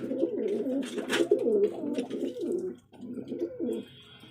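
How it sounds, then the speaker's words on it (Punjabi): Pigeons coo in a steady, throaty series close by, with soft warbling overlapping and a brief pause before the cooing resumes. "ਇਹ ਆਪਣੇ ਸਾਰੇ ਜਾਨਵਰ ਵੱਡੇ ਕਬੂਤਰ ਹੈ"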